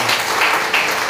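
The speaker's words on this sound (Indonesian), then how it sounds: "Berikan tepuk tangan untuk Tuhan Yesus" A church congregation in Belawan applauds during a Sunday service, a dense, even burst of clapping filling the room, steady and fairly loud with no distinct individual claps.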